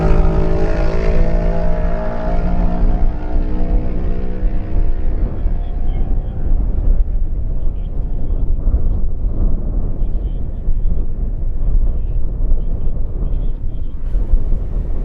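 Racing motorcycles, Kawasaki and Suzuki lightweight bikes, pass in a road race, with a loud engine whine that falls in pitch as they go by, then a steady roar fading in the distance.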